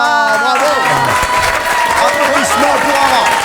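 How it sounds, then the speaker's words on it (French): Dense, steady applause from a television studio audience, loud throughout, with a voice and cheering mixed into the clapping. "Applaudissements pour Ara"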